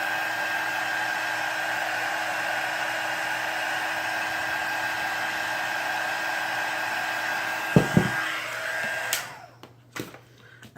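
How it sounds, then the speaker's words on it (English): A heat gun blows steadily for about nine seconds, drying paint, and then cuts off with a couple of clicks and taps. "take your heat gun, dry that"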